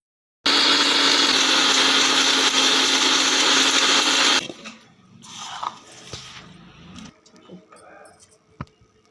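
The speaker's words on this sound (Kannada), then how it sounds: "ಈಗ ಅದನ್ನು ನಾವು ಸಣ್ಣಗೆ ಮಿಕ್ಸಿ ಮಾಡಿ ಇಟ್ಕೋಬೇಕ್ರಿ" An electric mixer grinder whirs loudly and evenly for about four seconds grinding cumin, tamarind and coriander leaves, then cuts off, leaving faint clicks and handling sounds.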